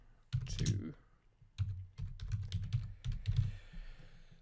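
Bursts of key clicks from typing on a computer keyboard, entering call-to-action text for a WordPress page, arriving in quick irregular clusters separated by short pauses, close and moderately quiet.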